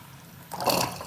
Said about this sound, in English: See how quickly it drains now.